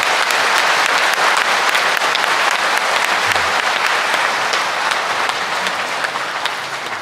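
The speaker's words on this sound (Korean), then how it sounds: "네, 환영하는 박수 보내주십시오." A congregation at a Mass for the blessing of holy oils on Priests' Day claps steadily in welcome, dense sustained applause filling the church at an even level throughout, with no talk over it.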